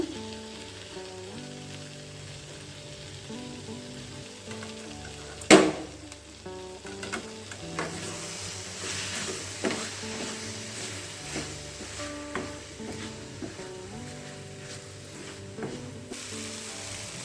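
Onion and tomato fry in a pan for a tomato-onion chutney, giving a steady close sizzle with occasional stirring clatter and one sharp utensil knock early on, no voices.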